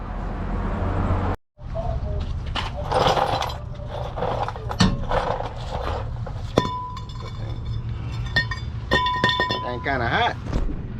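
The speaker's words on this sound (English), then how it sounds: "Now you want to take your rotor off." A brake rotor is worked off the front of a 2005 Ford F-150, giving metallic clinks, scrapes and knocks close by, with someone talking over the work.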